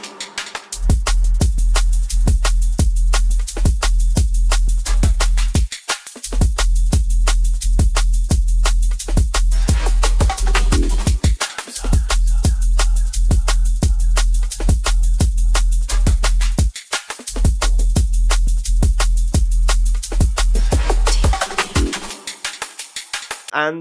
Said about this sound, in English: turn it into a beautiful looking massive DNB banger